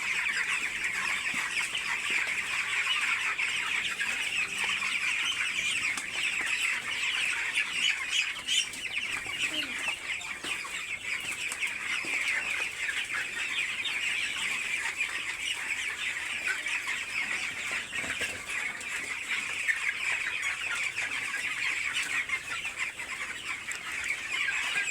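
A flock of 18-day-old broiler chickens in a poultry shed keeps up a dense, continuous chorus of high clucks and peeps, with occasional wing flaps, steady and moderately loud throughout.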